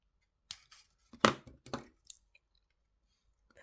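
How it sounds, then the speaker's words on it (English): Weaving wire is snipped with cutters, giving a few sharp, close clicks, a cluster of quick snaps in the middle, and then quiet. "Cut that bit of weaving wire."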